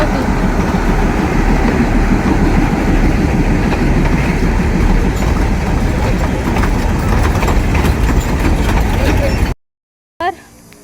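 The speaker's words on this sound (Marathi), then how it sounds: "तर आता मी तुम्हाला एक ट्रेन दाखवते" A small train rolls past close by with a steady, loud rumble and clatter of wheels on rails, continuing for over nine seconds before cutting off abruptly.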